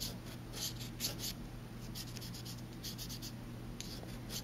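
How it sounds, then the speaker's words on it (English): A pencil traces along the edge of a template on a handmade card, giving close, soft scratchy strokes in short bursts over a faint steady hum. "Now I'm going to take my pencil and trace"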